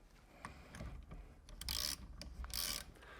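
A ratchet wrench tightening the nut on a steering hub of an RA28 Celica Fastback, heard as quiet clicking ratchet strokes that build into two louder, grinding pulls, close and with no talking.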